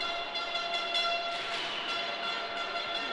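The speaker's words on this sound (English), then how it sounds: "someone found the air horn" A sustained, tonal air horn blast sounds from a distance in an arena at a roller derby match, over faint background noise, holding steady for a few seconds.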